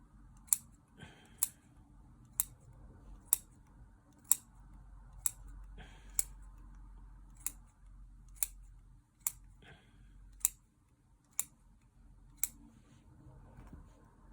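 Scissors snip through the roots of a Lawson cypress bonsai during repotting, about fourteen crisp, evenly spaced cuts close by in an otherwise quiet space.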